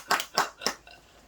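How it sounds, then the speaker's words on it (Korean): Three slow, separate hand claps in a lecture room during a talk on Chinese character etymology, each a crisp, fairly close clap about a third of a second apart, then quiet. "박수도 한번 치시고 그것도 괜찮아."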